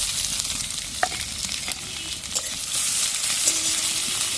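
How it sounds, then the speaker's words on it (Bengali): Onion frying in oil with garlic in a pan for a kalmi greens and red lentil dish, a steady close sizzle with a few faint clicks of stirring and no talk. "এবার পেঁয়াজটা দিয়ে দিলাম।"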